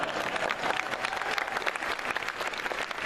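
Audience at a comic convention panel clapping, dense steady applause from a large crowd throughout.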